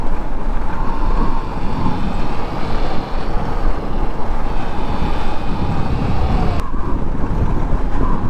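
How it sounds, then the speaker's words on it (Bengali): Strong wind buffeting the microphone while riding a motorbike on a hilly road in Bandarban, a loud continuous low roar with engine rumble underneath, steady throughout with a brief dip near the end. "এরকম ঠান্ডা বাতাস থাকলে ভাই রাইড করে মজা পাওয়া যায়"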